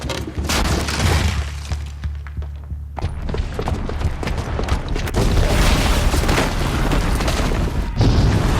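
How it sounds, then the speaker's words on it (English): A bomb blast in the video game Horizon Zero Dawn hits with a loud deep boom, then shattering debris and rumbling crashes that roll on for several seconds. "the booby trap on the bomb downstairs is gonna get set off"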